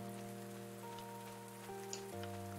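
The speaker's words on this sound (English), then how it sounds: "Tessa, what are you doing standing in the rain, dear?" Rain falling in the farming video game Pumpkin Days, a soft, steady patter with scattered drops under sustained background music tones.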